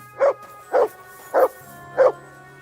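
The dog Mutt in Kingdom Come Deliverance 2 gives four separate barks at a steady, evenly spaced rhythm, loud and close, over a faint low background hum, with no speech.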